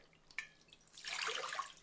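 Water poured into a bowl for pizza dough, a short faint splashing trickle after a small click, close and alone.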